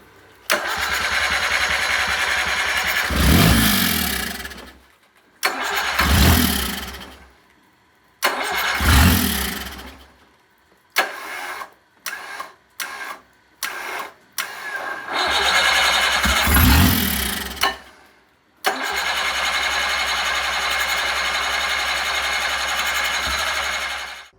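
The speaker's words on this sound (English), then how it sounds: "carburetors work best when they're not full of carb sand" Sea Ray 370 Sundancer boat engine under restoration cranking and starting, loud and close, with several long runs broken by abrupt stops and a series of short stuttering catches before it runs steadily again.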